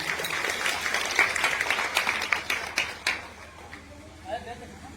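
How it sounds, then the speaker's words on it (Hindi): Audience at a Hindu devotional bhajan and kirtan gathering claps for volunteers, a dense burst of hand claps that thins out and fades toward the end, with faint voices underneath. "इन भाइयों के लिए एक बार जोरदार तालियां और बजाइए"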